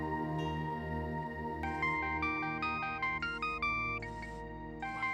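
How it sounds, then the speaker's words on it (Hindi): A phone's electronic ringtone plays a bright beeping melody of short repeated tones, loud and close, over a low steady hum. "उसी का फोन है।"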